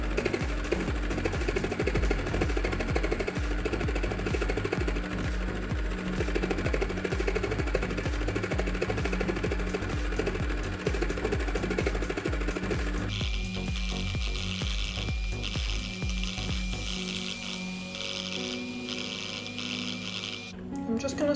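A Cool Maker Sew n Style toy sewing machine switched on and running: a steady, close, rapid mechanical clatter and whirr that shifts in tone partway through, then stops abruptly at the end.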